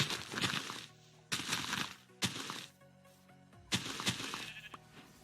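Sheep in the video game Minecraft bleat in several loud, close, wavering calls, each starting with a sharp crack-like onset, separated by brief quiet gaps.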